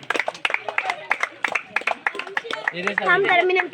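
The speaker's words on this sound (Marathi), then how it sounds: "अष्टविनायक क्रिकेट संघ कुमारवाडी जोरदार टाळ्या वाजवायच्या सर्वांनी" An audience at a village cricket prize ceremony claps in a brisk stream of sharp, overlapping hand claps. A voice rises over the applause toward the end.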